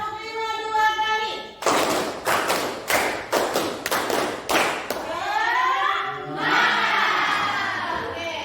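A classroom group claps a counted rhythm pattern of about seven sharp, loud claps in a row, with singing or chanting voices before and after the claps.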